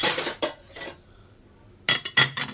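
A lid clanks onto a hot pot of cooked food in a home kitchen, a few sharp metallic knocks and scrapes close by, alone with quiet pauses between.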